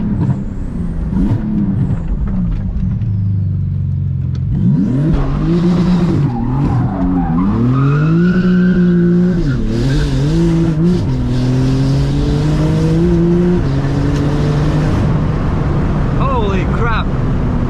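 A Porsche GT2 RS Weissach accelerates hard, its engine note climbing in repeated rising sweeps with brief drops at gear changes. The engine is loud and close, with roaring intake and exhaust under faint cabin noise.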